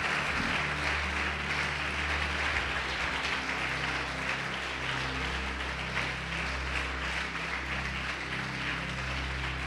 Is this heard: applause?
yes